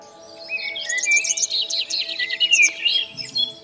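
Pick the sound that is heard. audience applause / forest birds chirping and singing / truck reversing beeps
forest birds chirping and singing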